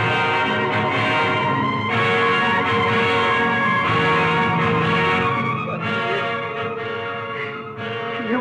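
A temple bell rings repeatedly in a steady rhythm, loud and close, its strikes blending into a continuous ringing wash that fades slightly toward the end.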